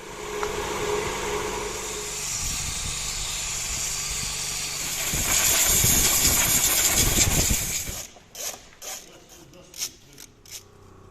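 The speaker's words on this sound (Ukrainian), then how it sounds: "Веселий двигун." A Land Rover Freelander engine idles with a steady mechanical rumble and hiss, then cuts to quieter, intermittent knocking sounds near the end.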